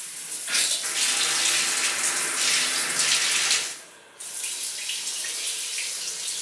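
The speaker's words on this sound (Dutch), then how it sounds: "Ik ga nu even douchen." Indoor shower water running steadily and close, a continuous broad hiss that briefly dips as the flow is adjusted, then carries on at a slightly lower level.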